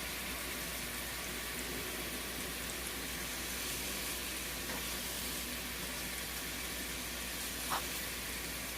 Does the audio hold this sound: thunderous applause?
no